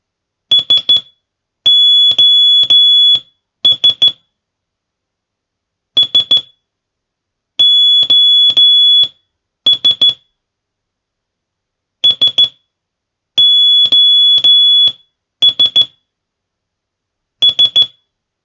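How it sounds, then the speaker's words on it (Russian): An SOS distress signal like those sent by radio operators repeats as loud, clean high beeps, three short, three long, three short, cycling three times with silent gaps and no voices. "Вот такой сигнал SOS."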